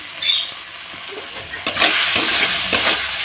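Masala for a fish curry sizzling in hot oil as a spoon stirs and scrapes it around the pan, with steady frying hiss and repeated louder scraping strokes, close up and without talk.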